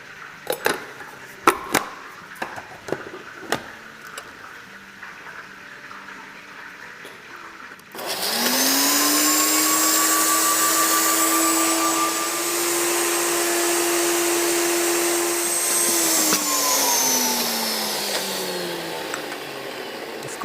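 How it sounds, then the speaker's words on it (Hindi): An electric spice grinder whirs loudly for about eight seconds as it pulverizes bay leaf and whole spices for nihari, then winds down. Several short clicks and knocks come before it starts. "और ये मसाले थोड़े थोड़े डाल के बारीक सा मसाला पीसेंगे"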